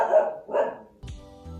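A dog gives two close, loud barks in quick succession, followed by a brief lower bark or yip and a short rumble after a pause, with no talking.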